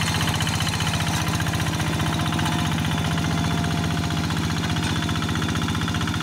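A paddy field tractor engine chugs steadily at close range while tilling a small rice field for seedbeds, a loud, even mechanical throb with a rattling vibration that doesn't let up.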